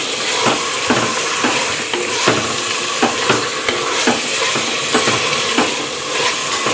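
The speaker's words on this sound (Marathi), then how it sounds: "गॅस मोठा करूया आणि हे परतून घ्यायचं व्यवस्थित" Paneer biryani ingredients sauté in a pan over a high gas flame, with a steady sizzle and regular scraping stirs repeating about once a second, close and fairly loud.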